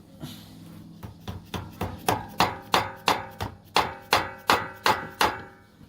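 Repeated light hammer taps on a Honda GX-series go-kart engine part, about a dozen sharp metallic knocks in a steady rhythm, close and growing slightly louder, with no talking.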